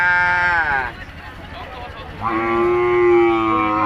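Cattle at a crowded livestock market low loudly, with two long drawn-out moos close by over a background of murmuring voices and market bustle.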